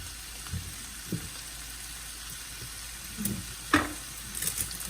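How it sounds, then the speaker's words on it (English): Golden cooking wine poured into a pan of sizzling keto shredded beef for vaca frita and ropa vieja: a soft, steady sizzle with a few light clinks and a brief louder hiss burst, without talk. "Now I'm going to go ahead and add my golden cooking wine."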